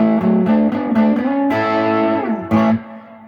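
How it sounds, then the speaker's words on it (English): Electric guitar through a Roland Cube 80X amp set for a cranked Fender Twin-style distortion, loose and flubby rather than crunchy, playing a few loud sustained chords and bends, close and alone. "That does sound like a Fender Twin just cranked."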